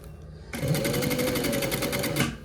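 A three-thread overlock sewing machine stitches a hoodie shoulder seam in one steady, fast run of even mechanical whirring and clatter lasting about two seconds, starting abruptly and stopping cleanly, with no talk over it.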